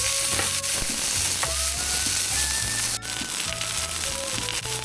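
Steak frying in a pan inside a camper van, a steady loud sizzle running throughout with scraping and clinking from the pan layered over it.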